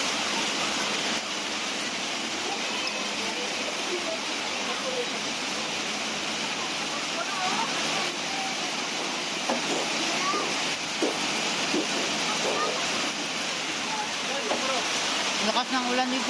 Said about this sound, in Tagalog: Lakas ng ulan dito, guys.